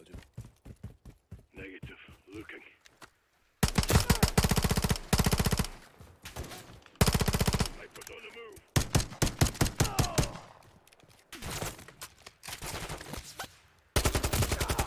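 Rapid automatic gunfire from a Call of Duty MW3 campaign mission ambushing a convoy, on Veteran difficulty, coming in loud, dense bursts separated by short pauses, with quieter scattered shots and effects between them.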